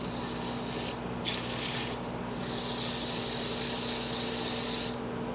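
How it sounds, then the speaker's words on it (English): Sandpaper rubbing against the spinning bottom and side of a small wooden keys-and-change holder on a lathe, a steady close scratchy hiss over the motor's low hum, with brief pauses as the paper lifts off. "Now all I'm gonna do right now is just sand the bottom and the side"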